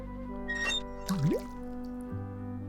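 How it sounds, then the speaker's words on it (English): Bucket being filled with water in Day of the Tentacle, short cartoonish gurgling drips and a rising sloshing pour over a steady held musical tone. "we're going to fill this bucket up with water"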